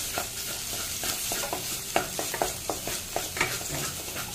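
A spatula stirs coconut filling for potol dorma as it fries in oil, making a rapid run of short scrapes and taps over a steady sizzling hiss nearby.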